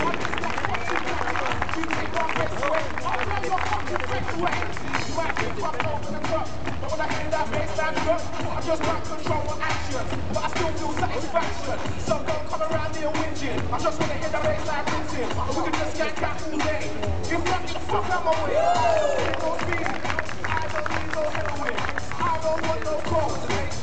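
Crowd applauding a parkour team's show outdoors in Poitiers, steady clapping and cheering blended with crowd noise and music throughout.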